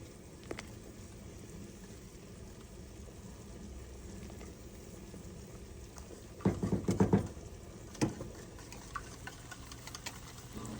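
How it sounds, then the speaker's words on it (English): A stock pot of pheasant wild rice soup, thickened with roux and holding vegetables, bacon and garlic, simmers with a low, steady bubbling that swells into a short burst of louder pops and gurgles partway through. "This is starting to simmer up nice."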